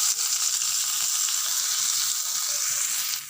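Paste of ground mustard flowers sizzles steadily in a hot pan with kalo jeera, a continuous close frying hiss with faint scraping, no voices.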